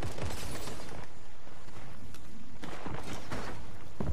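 Shotgun fire in a multiplayer shooter game, sharp blasts at the start, middle and end, with a busy background of game noise between them.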